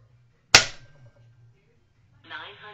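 A single sharp, close crack from an FX Impact M4 air rifle stands out against a quiet background, followed by a brief voice.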